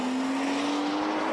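BMW 640i Gran Coupe driven hard through corners in Sport Plus mode with traction control off, its engine holding a steady loud drone from inside the cabin without a break.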